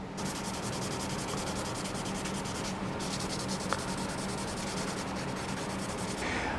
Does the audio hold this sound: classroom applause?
no